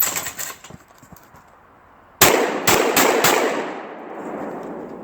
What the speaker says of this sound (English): I'm going to fire this on my left side.